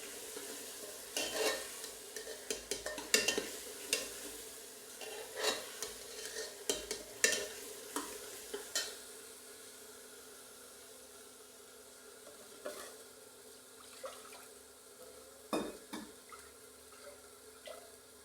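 Tadka for an aloo paneer curry stirred in a pan, with a spoon scraping and knocking in bursts over a faint steady frying hiss, loud at first and then sparser.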